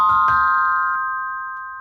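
A sampled vibraphone from the Cinematique Instruments Ensemblia Métallique library plays two quick struck notes that merge into a sustained, shimmering metallic chord, ringing on clearly and fading slowly with no voices.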